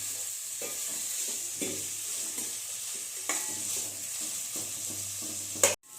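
Onion frying in oil in a pan for raw mango rice, a steady continuous sizzle with occasional stirring scrapes and a sharp clatter near the end, close and moderately loud, no voices.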